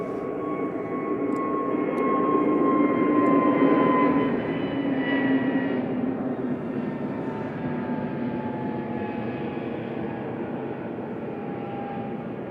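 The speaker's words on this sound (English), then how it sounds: "EasyJet to Reykjavik departing" An EasyJet jet airliner bound for Reykjavik departs Manchester Airport on a cold, snowy day, its engines roaring steadily and swelling to a peak before easing into a sustained, fairly distant rumble.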